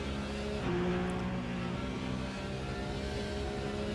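Race cars roar around the Bahrain circuit in a racing video game, their engines holding a loud, continuous high-revving drone with shifting pitch as they run close together.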